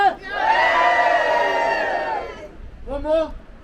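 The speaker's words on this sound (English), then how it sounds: "one, big cheer!" Wedding guests at a hotel letting out a big group cheer, a sustained loud shout of many voices lasting about two seconds, then a shorter second whoop.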